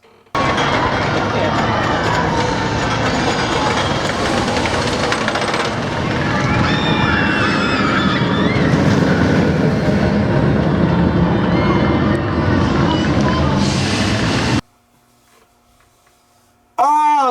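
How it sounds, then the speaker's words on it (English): A steel roller coaster roars along its track for most of the span, a loud sustained rumble with crowd noise and screams mixed in, then cuts abruptly to near silence before a brief return. "On the opposite of that, we have an intense roller coaster"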